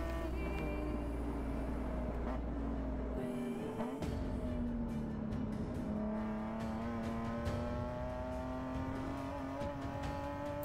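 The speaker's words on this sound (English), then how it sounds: "The exhaust note of a race car is intoxicating." A race car engine roars continuously at high revs, its pitch rising and falling through gear changes, loud and close with no voices.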